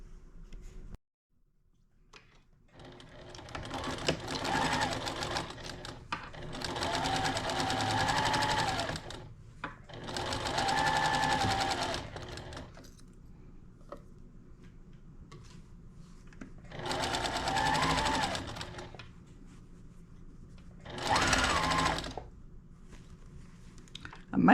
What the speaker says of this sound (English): I'm going to sew the border or the sashing, whatever you want to call it, to both the top and the bottom